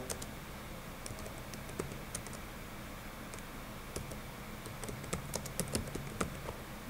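Quiet, irregular clicks of fingers typing on a computer keyboard, faint and close, with bursts of keystrokes growing busier toward the end.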